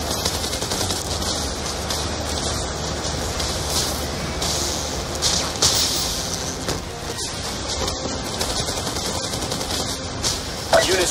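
Sustained machine gun fire in a modern war game set in Afghanistan, a dense rattling stream of shots running throughout amid a rumbling vehicle-like background, with occasional radio-style voices.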